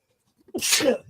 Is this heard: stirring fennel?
no